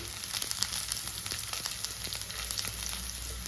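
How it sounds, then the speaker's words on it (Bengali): Steady sizzling of curry leaves frying in hot oil in a pan, a constant crackling hiss with small pops, no talking. "এটা ভাজা হচ্ছে"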